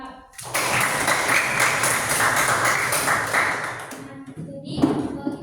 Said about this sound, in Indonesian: Tepuk tangan untuk semua teman-teman kalian yang sudah menjawab.